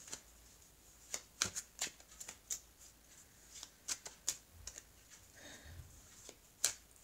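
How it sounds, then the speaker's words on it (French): Oracle cards being handled and shuffled, a close series of sharp riffling snaps and light slides with uneven rhythm, quiet and without talk. "je vais prendre maintenant les cartes de l'oracle des miroirs pour voir la suite de ce tirage"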